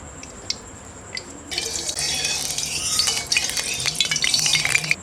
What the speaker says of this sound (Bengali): প্রথমে আলুটা ভেজে নেব তার জন্য তেল দিয়ে দিচ্ছি